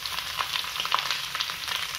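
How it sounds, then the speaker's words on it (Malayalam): Grated coconut frying in a pan with dried red chillies and curry leaves for an Onam kootu curry, a steady close crackling sizzle with soft stirring scrapes throughout. "തേങ്ങയുടെ കളറ് മാറണ വരെ ഇളക്കി കൊടുക്കാം."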